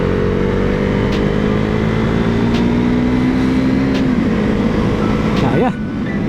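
A first-generation KTM Duke 390 single-cylinder motorcycle engine drones steadily while being ridden at about half throttle, then its pitch drops and it briefly revs up near the end, loud and close.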